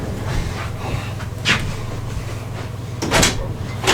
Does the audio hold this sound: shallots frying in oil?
no